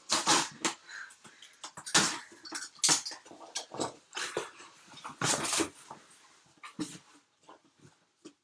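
A dog moves about a room, snuffling, whining and making short yips in uneven bursts, close by, with clattering handling noises in between.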